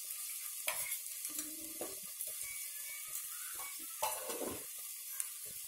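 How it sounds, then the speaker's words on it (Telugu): Ginger, garlic and green chillies frying in a pan for an egg masala curry, a soft steady sizzle with occasional scraping stir strokes and clinks, no talking. "అల్లం వెల్లుల్లి పచ్చిమిర్చి ఇది 2 మినిట్స్ వేయించుకుందాం."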